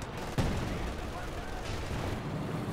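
A single artillery shot in a video game tournament match, a sharp loud boom at the start, then a dense, continuous battle din of gunfire and explosions.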